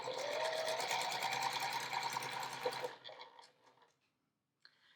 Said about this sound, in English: we're going to sew a 1/4 inch seam across there